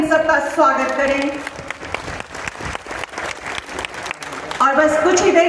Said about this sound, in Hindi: जोरदार तालियों से इन सबका स्वागत करें।